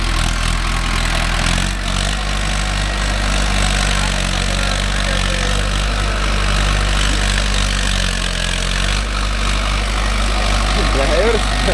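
Mahindra Arjun Novo 605 DI tractor working a five-point cultivator in a field, its diesel engine droning loud and steady close by throughout.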